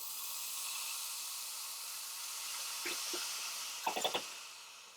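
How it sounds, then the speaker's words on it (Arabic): Boiled water poured onto hot rice in a pot for koshari sends up a steady, soft hiss of steam that lasts throughout, with a few brief bubbling pops near the end. "هصب عليها دلوقتي المية بعد ما غليت"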